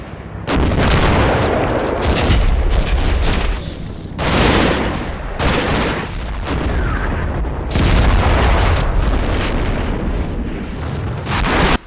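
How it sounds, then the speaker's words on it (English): Dense, loud battle noise from a Panzer IV tank and artillery in the World War II strategy game Combat Mission near Aachen, with overlapping gunshots and booms rolling continuously, the heaviest bursts near the start, middle and around eight seconds. "my Panzer IV continues to shoot and scoot"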